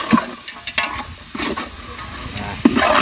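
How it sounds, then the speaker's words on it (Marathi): Village chicken sizzles in a spiced tempering in a pan on a wood-fired stove for a Malvani rassa. Steady close frying hiss with scraping stirs now and then and a few sharp clinks. "ते मस्तपैकी त्या फोडणीमध्ये आपण परतून घ्यायचं आहे"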